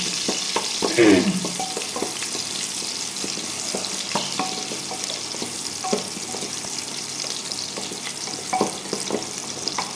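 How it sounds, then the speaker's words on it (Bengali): Chillies frying lightly in oil in a pan for a bottle gourd and egg dish, a steady close sizzle broken by a few stirring clinks and scrapes, with no talking. "মরিচ হালকা করে একটু ভেজে নিই"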